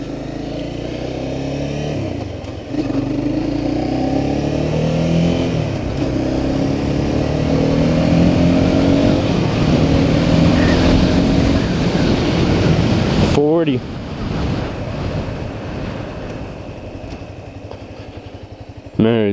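A 2015 Honda CBR 300R motorcycle riding along small roads, its engine droning loud and steady under heavy wind rush, the pitch rising and falling with the throttle, then a sudden drop and a rising rev near the end.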